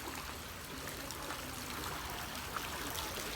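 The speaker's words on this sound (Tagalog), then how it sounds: "Tapos ito na yung tubig ng Hong Kong." Water running steadily down a concrete drainage channel on a Hong Kong mountainside trail, a soft continuous trickling and rushing flow, fairly faint and even throughout with no voices.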